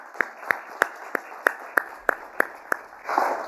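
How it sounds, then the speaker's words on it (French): Slow, evenly spaced hand claps ring out about three times a second, fairly faint and distant, swelling into fuller applause at the end, from an audience at an aeronautics industry gathering. "Et je veux qu'on les applaudisse."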